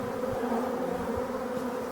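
An evening swarm of honey bees that has settled among stinging nettles gives off a steady, dense, close buzzing hum that continues without a break.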